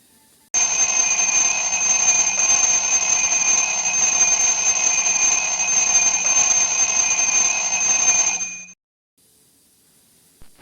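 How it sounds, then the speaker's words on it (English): An alarm clock rings loudly and continuously in a bright, metallic, shrill tone for about eight seconds, then stops abruptly, leaving near silence. "an alarm clock."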